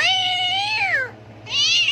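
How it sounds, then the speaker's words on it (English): A cat gives two loud, close meows, a long drawn-out one followed by a shorter one after a brief pause, with no talk over them. "I can't even tell who's meowing now."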